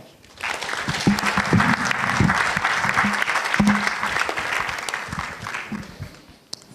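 Audience at the NSMQ 2025 national science and maths quiz launch in Ghana claps steadily for several seconds after a sponsor's speech, with a few voices and cheers mixed into the sustained applause.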